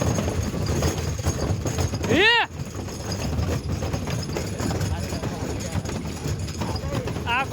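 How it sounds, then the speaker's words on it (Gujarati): Bullock hooves clip-clop as a bullock cart arrives to load firewood, under people talking, with a brief rising and falling tonal sound partway through. "આવી ગઈ ગાડી બળદ ગાડી લઈને જવાનું છે હવે"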